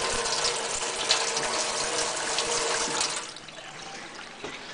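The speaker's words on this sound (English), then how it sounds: "I have running water" A household tap runs cold water in a steady, close gush, then drops to a lighter trickle for its last stretch.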